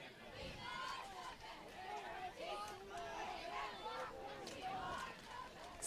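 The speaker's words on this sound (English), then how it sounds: "It's a decent crowd section tonight." Crowd noise fills the stands at a high school football game between Triton and Ipswich, a steady hubbub of cheering and chatter with voices rising and falling, heard at moderate distance.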